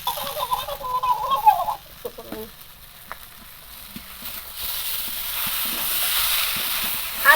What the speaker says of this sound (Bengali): এবার এখানে ভেজে রাখা চিংড়ি মাছগুলো দিয়ে দেবো